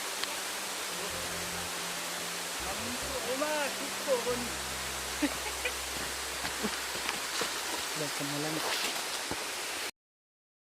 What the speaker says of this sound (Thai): เสียงน้ำตกแบบดังชัดมาก